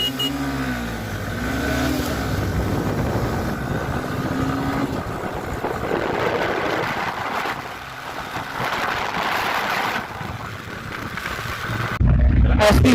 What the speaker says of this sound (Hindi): SP को उसके CC और पावर का एडवांटेज मिलते हुए यहाँ पे 5वां गियर लगा लिया हमने।